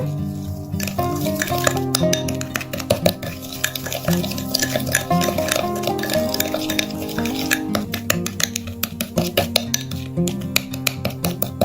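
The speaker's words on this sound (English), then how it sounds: "Now mix well the ingredients until they combine and get very well mixed together." Homemade dental plaque remedy ingredients being stirred together in a container, a steady run of scraping clinks and taps that goes on without a break, close and fairly loud.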